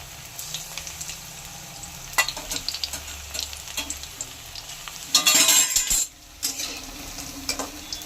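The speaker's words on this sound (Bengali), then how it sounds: "এই পকোড়াগুলো সব এইভাবে করেই আমি ভেজে নেব।" Cauliflower pakoras deep-frying in hot oil, a steady close sizzle with stirring and a burst of louder bubbling and utensil scraping partway through.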